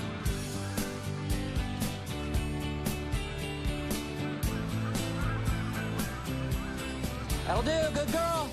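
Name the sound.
Canada geese honking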